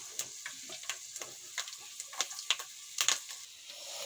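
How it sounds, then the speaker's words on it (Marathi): Peanuts fry in oil in a pan, crackling and popping in scattered sharp bursts over a low steady sizzle, heard close with no talking. "इकडे तेल टाकलेलं आहे, लागण्यानुसार तेल टाका आणि मग शेंगदाणे घाला"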